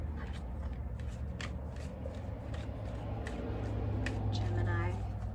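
A deck of tarot cards is shuffled during a reading, making repeated riffling and flicking bursts close by, while a voice talks quietly underneath throughout.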